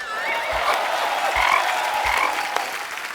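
Frogs croak in a rhythmic series of short, rasping calls, several repeated pulses standing out loudly over a steady background of chorus noise.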